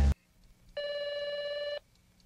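A telephone rings in a film scene: one steady, buzzy electronic ring burst lasting about a second, following a brief loud thump at the start and set against a quiet background.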